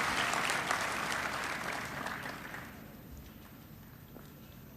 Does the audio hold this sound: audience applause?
yes